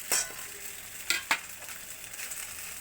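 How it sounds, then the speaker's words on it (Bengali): Boiled Maggi noodles tossed with scrambled egg fry in a pan, giving a soft steady sizzle with a few sharp scraping stirs of a spatula, fairly quiet and close, with no voices. "ম্যাগিটাকে আমি ভালো করে ভেজে নেব"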